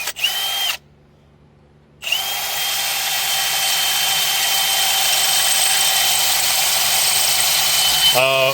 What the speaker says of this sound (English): We're drilling it out now because the holes don't line up with this adapter